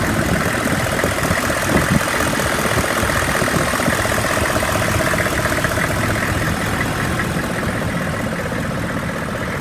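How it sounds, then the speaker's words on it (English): A 2002 Hummer H1 engine idles with 33,000 miles on it, a loud, steady rumble with a fast, even mechanical clatter that holds throughout, with no voices. "The motor sounds good."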